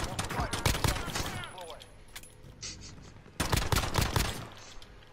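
Rapid bursts of pistol gunfire in Call of Duty: Warzone, sharp clustered shots at the start and again near the end with a quieter gap between, heard with a voice talking.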